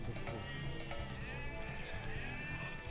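Sheep bleating in the strategy game Age of Empires 2 Definitive Edition, several overlapping bleats that stay loud and steady throughout, heard alone with no talk.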